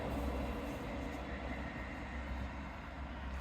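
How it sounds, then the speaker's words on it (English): A train rumbles steadily past on the seafront line at Teignmouth with a broad, low roar that keeps the same level throughout and is not loud. No talking. "Here's a train."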